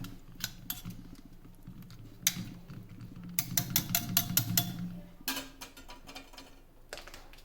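Metal whisk tapping and scraping against a bowl as yogurt is mixed with chopped cucumber, grated carrot and coriander, a run of quick light clinks with brief pauses, close and fairly quiet, no talk.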